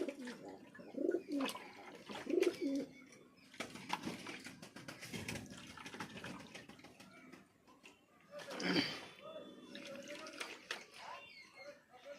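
Pigeons coo in a few low, soft phrases during a bath in treated water meant to keep lice away, mixed with splashing, faint chirps and quiet background voices.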